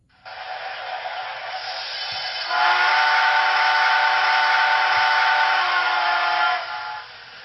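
A Broadway Limited Paragon 4 Southern Pacific GS-4 model steam locomotive sounds its whistle, a loud, close, sustained chime that swells after a few seconds, holds and then cuts off, over faint mechanical background.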